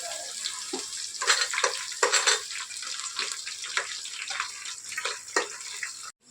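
Green chilies and onions sizzle in hot oil for chicken biryani, a steady loud hiss of frying with scattered crackles and pops, stirred now and then, with no talking over it.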